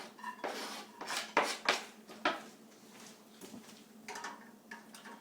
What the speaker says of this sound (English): I'm going to take my sauteed onions, and I'm going to add that to the pan